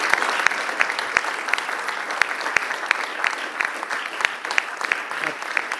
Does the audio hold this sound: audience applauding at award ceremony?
yes